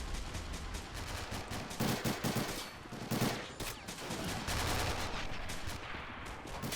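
Bazookas and rapid gunfire boom and crackle through a street battle in Los Angeles, dense overlapping bursts filling the whole stretch at steady, heavy loudness with no pauses.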